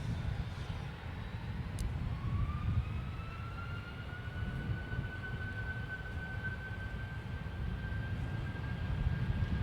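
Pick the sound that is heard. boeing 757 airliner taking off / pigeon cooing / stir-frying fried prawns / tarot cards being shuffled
boeing 757 airliner taking off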